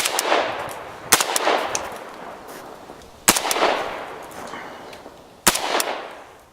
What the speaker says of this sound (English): Got a fourth shooter rocking away with the AK-74